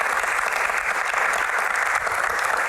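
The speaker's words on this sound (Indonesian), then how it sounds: "Tepuk tangan dulu." Sustained applause from a studio audience during an Indonesian talk-show interview, a dense steady wash of clapping that holds at an even level throughout with no voices over it.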